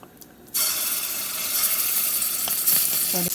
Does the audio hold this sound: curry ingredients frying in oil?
yes